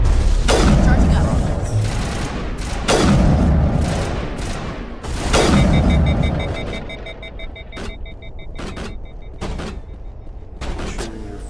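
Repeated bursts of gunfire in the Mass Effect Legendary Edition video game, firing at an ally's shield, come in three loud heavy volleys with sharp single shots and mechanical clicks between them.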